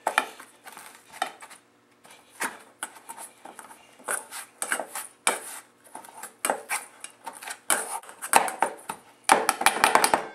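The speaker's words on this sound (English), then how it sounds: "you just take your dough blender and you kind of go, you just cut down on the butter" Repeated scraping and clinking of a metal dough blender cutting butter into a crumb mixture in a bowl, in irregular bursts of chopping strokes.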